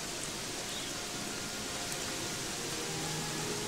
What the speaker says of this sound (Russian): Дождь, блядь, с утра.